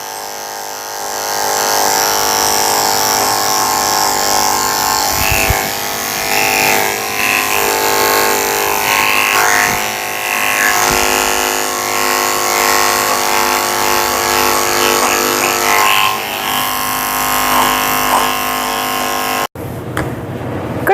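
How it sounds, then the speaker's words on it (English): Electric dog clippers fitted with a 30 blade buzz steadily and close up while lightly shaving hair around a Yorkie's eyes. The loud, continuous hum runs for about twenty seconds, then cuts off abruptly near the end. "I'm going to come in with my 30 blade and lightly shave out the hair in the corners of her eyes"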